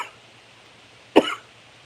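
A single short cough bursts out near the person, standing outdoors in humid Florida weather, after a quiet stretch with only faint background hum.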